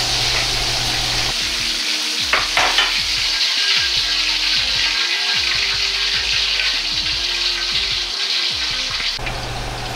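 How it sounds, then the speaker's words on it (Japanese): Gyoza dumplings deep-fry in oil over low heat, giving a loud, steady sizzle and crackle that runs throughout, close and continuous, with no talk. "中まで火が通るまで弱火でじっくりと揚げていきます。"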